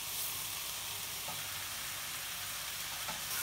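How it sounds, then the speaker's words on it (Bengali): Small kachki fish frying with turmeric and onion in a pan make a constant loud sizzle with faint scraping from stirring, close and uninterrupted, with no voices. "এই মাছ দিয়েও অনেকক্ষণ কষামো।"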